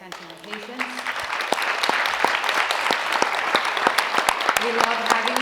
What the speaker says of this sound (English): If you could just stand and give a round of applause to these guys.